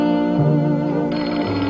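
Two extension telephones ring together as one, a steady, continuous electric bell ring that stays loud and close throughout, with no voices.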